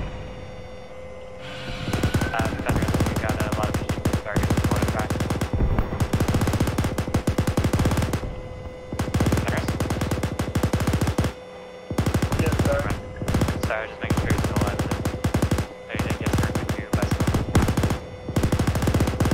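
Loud, sustained machine-gun bursts from a tank combat video game roll on almost continuously for nearly twenty seconds, broken only by a few brief pauses between long streams of rapid fire.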